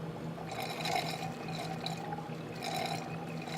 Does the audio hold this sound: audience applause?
no